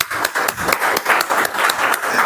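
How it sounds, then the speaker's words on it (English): Brisk applause from a meeting audience at a Toastmasters speech contest, a dense run of many hands clapping close by for a couple of seconds with no talk over it. "all of us are going to clap for you"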